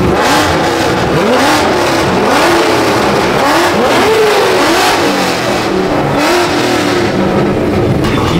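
Whipple-supercharged Mustang and naturally aspirated C6 Corvette Z06 drag racing, engines revving hard and climbing through gears in loud sustained roars with shifting pitch sweeps, no talk.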